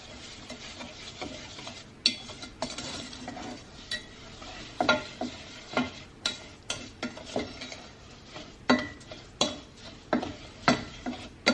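A spoon stirs brown and granulated sugar in a pot for caramel popcorn, giving irregular scraping knocks and clicks against the pan over a soft sizzle, close and steady without talk.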